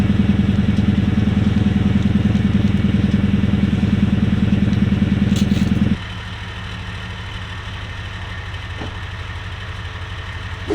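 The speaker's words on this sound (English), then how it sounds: "We get to hear the idle, and I gotta say, it's not loud at all." Toyota Tundra fitted with an aftermarket exhaust idling, a deep, steady, fairly loud rumble that abruptly drops to a quieter, thinner idle about halfway through and holds there.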